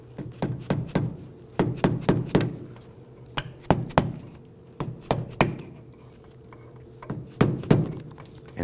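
Chisel tapping a metal dust cap onto a 2008-2011 Ford Focus wheel hub: a series of sharp, bright metallic taps in small irregular clusters, close and alone.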